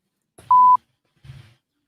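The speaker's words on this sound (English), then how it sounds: "Why did it beep?" A single sustained electronic beep from a device, steady and fairly loud for about a quarter second, framed by faint low murmuring before and after.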